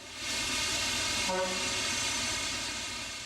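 Royal Hudson steam excursion train rolling past in a steady, loud rumble, with a short horn or whistle tone sounding midway through.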